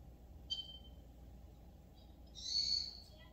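A pet bird gives two high, thin whistled calls, a short one early and a longer rising one near the end, fairly close over a low background hum, no talking.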